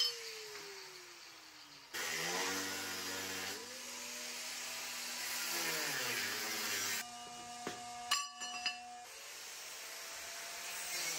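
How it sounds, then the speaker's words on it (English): An angle grinder and a circular saw fitted with a metal blade cut 3/16 inch steel plate for an offset smoker's top, giving loud, continuous whining and grinding with pitch shifts and a few sharp clanks near the end. "Use the angle grinder and a circular saw with a metal blade."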